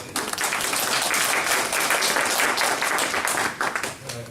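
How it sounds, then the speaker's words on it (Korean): Audience clapping at a public forum on building a museum, welcoming a local heritage preservation society chairman: a few seconds of steady, moderately loud applause that tapers slightly near the end. "예, 박수로."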